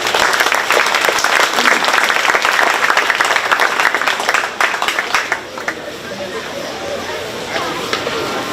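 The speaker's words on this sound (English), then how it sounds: "let's give them a round of applause." A county fair audience at a 4-H bottle calf show gives sustained, dense applause that stays loud for several seconds before gradually thinning out.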